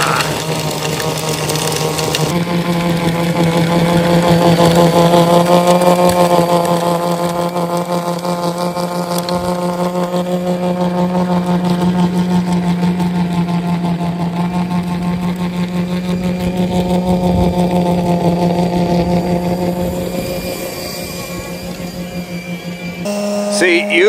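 A Yarbo robot snow blower, a 230 lb machine, runs steadily through deep snow with a continuous mid-pitched motor drone that swells and eases slightly, close by, then stops abruptly near the end.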